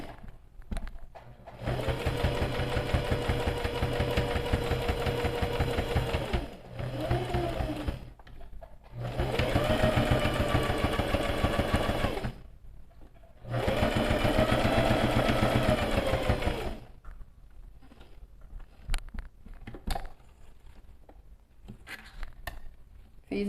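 A sewing machine stitches fabric for a quilted bag in three long, steady runs of whirring motor hum, each a few seconds long, separated by short pauses, close and clear with no talking.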